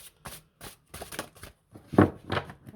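A deck of reading cards is shuffled by hand in a series of quick, crisp riffles and soft slaps, close and clear, with a louder burst near the end.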